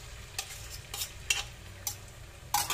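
An egg scrambled in hot oil, a soft sizzle with quick scraping stir strokes against the pan, about five short bursts over a few seconds.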